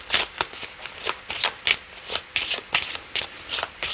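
Tarot cards are shuffled by hand close up, a rapid series of crisp riffling bursts and soft slaps repeating at a brisk, uneven rhythm.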